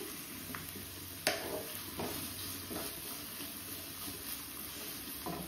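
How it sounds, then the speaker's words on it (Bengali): Steady low sizzle of onions frying in oil for biryani, with a few faint clinks and scrapes scattered through it; no voices. "আর এইদিকে দেখো বিরিয়ানির জন্য পেঁয়াজ ভাজা বসিয়ে দিয়েছি"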